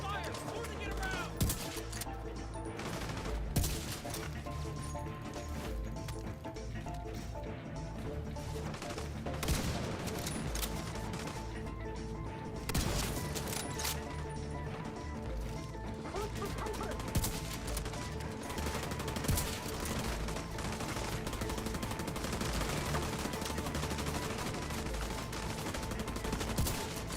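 Sustained video game gunfire in The Division 2, dense overlapping bursts of automatic weapons running continuously under a music bed, with voices talking over the fighting.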